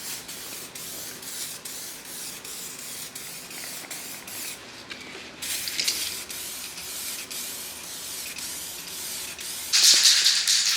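Rattle can spraying clear coat onto a car valve cover in long steady hissing bursts with short gaps, close and fairly loud, the last burst stronger.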